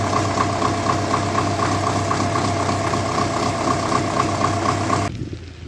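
A GAZ-66 truck engine runs steadily up close while driving through town, a loud, rough mid-pitched drone with a rapid knocking pulse that cuts off abruptly near the end.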